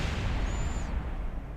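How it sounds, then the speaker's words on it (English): Rocket booster exploding in the video game Kerbal Space Program, a deep rumbling boom that fills the low end and slowly fades, with a brief thin whistle riding over it. "I'm just going to detach the boosters and... Whoosh. Explosion."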